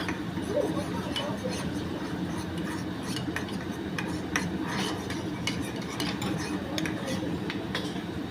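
A spoon stirs sauce into a minced chicken momo filling in a bowl, producing soft, steady scraping and clinking that continues throughout, close but fairly quiet, while someone talks over it.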